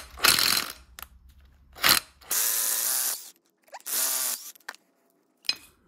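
A ratchet turns Torx T30 screws loose on a 2002 Chrysler PT Cruiser during engine mount work, with close, loud bursts of fast pawl clicking separated by short pauses and a few sharp knocks.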